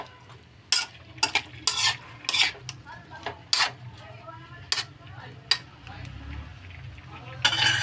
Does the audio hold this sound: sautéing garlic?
yes